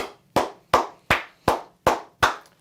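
Seven slow, evenly spaced hand claps from one person, each a sharp close smack with a short decay, alone with no talking.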